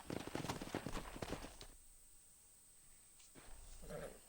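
A stallion's hooves clip-clop in Red Dead Redemption, a quick run of faint hoofbeats that stops, leaving a quiet lull before a brief soft sound returns.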